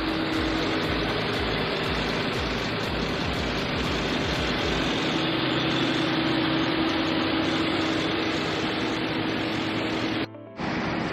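A 2019 Mercedes-Benz G550 engine idling steadily with a constant hum and a broad wash of noise, close and fairly loud, cutting out briefly near the end.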